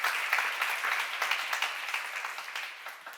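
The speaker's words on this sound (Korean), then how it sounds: "박수 한번 드리세요" A church congregation at a Bible seminar claps together, a steady patter of many hands with small rhythmic bursts, moderately loud and gradually fading over a few seconds.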